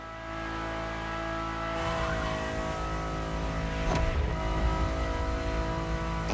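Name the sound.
Ferrari supercar engine in video game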